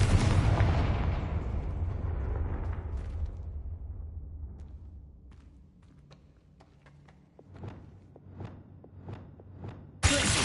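Confringo spell blasts go off in Hogwarts Legacy gameplay: a big booming explosion that rumbles and fades over several seconds, then a string of sharp distant bangs and cracks, ending with another sudden loud hit.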